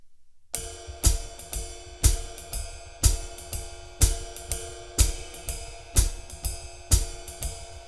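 A snare drum plays a steady jazz time groove: sharp, crisp hits about once per second with quieter ghost strokes between them, close and alone.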